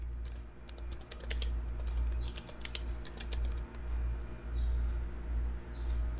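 Keys clatter in quick irregular bursts as a title is typed on a computer keyboard for a PowerPoint slide, close and fairly loud over a steady low fan hum, with no talking.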